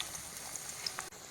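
Chopped onion sizzles steadily in a hot pan while chicken is being cooked, a close, even hiss of frying for a moment with no voices.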